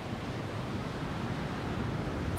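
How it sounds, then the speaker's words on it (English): Wind blows steadily through the climbing game Jusant, a dense, roaring gust that stays loud and unbroken throughout. "Oh, very windy, huh?"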